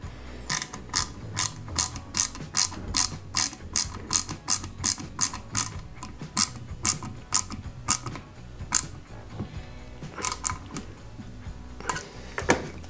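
Screw being tightened hard on an Ecto-1 Ghostbusters model kit, giving a close series of rhythmic ratcheting clicks, fairly regular, then slowing with a few final clicks.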